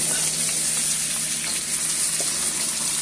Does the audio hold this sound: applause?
no